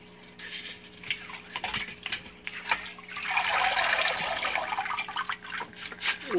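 Canister filter media is swished around in a container of water, with sloshing and splashing that builds to a fuller churning wash midway, fairly close.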